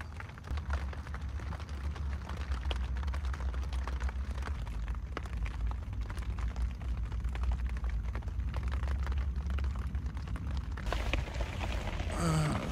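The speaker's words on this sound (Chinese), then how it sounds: "今天竟然下一整天的雨，我们只能在这个帐篷里面待一天了" Heavy rain drums steadily on a camping tent during a cycling trip in Longxi, Gansu, a dense close patter that continues without pause and without voices.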